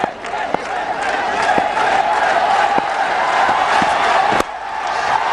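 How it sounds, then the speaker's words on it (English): A packed cricket stadium crowd in Guwahati roars and cheers for Jadeja's fifty during the India vs Australia ODI, a loud, sustained wall of noise with scattered whistles and claps, no individual voices standing out. "And listen to the crowd."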